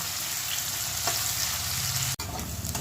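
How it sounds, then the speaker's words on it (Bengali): Chopped onions with whole garam masala fry lightly in a pan until reddish for Chicken Maharani, giving a steady, close, continuous sizzle with a brief break near the end and no voices. "হালকাভাবে একটু পেঁয়াজটা লাল লাল করে ভাজতে হবে।"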